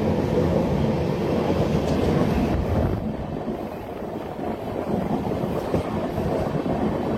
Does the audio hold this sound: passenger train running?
yes